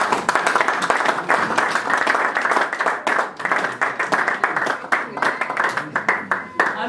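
Congregation clapping at a French-speaking church celebration service, a dense, steady run of hand claps filling the room with voices mixed in throughout.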